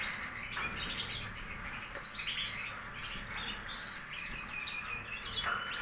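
Female birds in a breeding aviary keep up a continuous chorus of high chirps and tweets, many overlapping calls at moderate distance with no talking.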